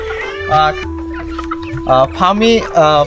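Two-month-old farm chickens cluck loudly and close by in several short bursts, over a steady faint background hum.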